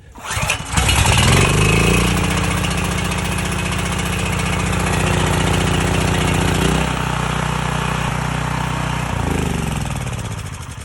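A Ryobi portable generator engine cranks and catches on cold start, then runs at a loud, steady roar close by, its note dipping briefly around the middle before settling back to an even drone.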